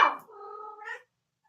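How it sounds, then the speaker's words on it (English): A cat gives a single drawn-out meow that starts sharply, then wavers and fades over about a second. It is close and clear against a quiet background with no talking. "can you hear the cat responding to her?"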